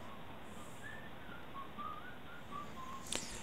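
Short, thin whistled notes recur every so often over a steady, busy jazz music bed in the video game Ed, Edd n Eddy: The Mis-Edventures, with a brief bright click near the end.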